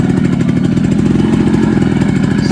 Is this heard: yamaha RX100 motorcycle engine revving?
yes